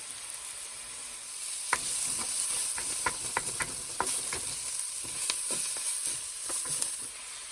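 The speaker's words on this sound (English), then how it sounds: "I just added the mushrooms. I added a bit more olive oil." Mushrooms sizzle and fry in olive oil in a pan, a steady hiss broken by scattered stirring clicks and scrapes, close up with no talking.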